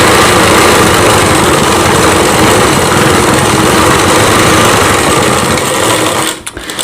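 A sewing machine runs loud and continuous, stitching a folded seam on a Rajputi poshak kanchali blouse, its rapid motor whir and needle chatter steady until it abruptly stops near the end.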